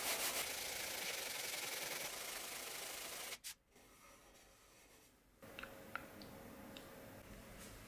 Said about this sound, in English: Using 180 grit sandpaper, I sand the tube ends until the saw marks are gone.